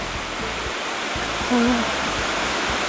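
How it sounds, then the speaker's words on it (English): A waterfall on Mount Kilimanjaro along the Machame Route gives a steady, broad rushing roar throughout, with a brief voice-like tone rising above it midway. "we are somewhere where there's a beautiful waterfall"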